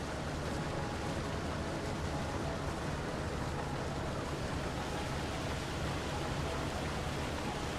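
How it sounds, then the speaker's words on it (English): Hail pelts down in Farming Simulator 25 with a steady, even hiss, a constant broadband wash with no talk over it, fairly quiet throughout. "Oh, here comes the hail."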